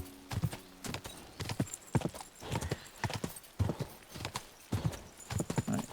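Horse hooves clip-clopping in a steady, uneven rhythm while a rider travels in Kingdom Come Deliverance, close and fairly quiet, with a faint whinny among the beats.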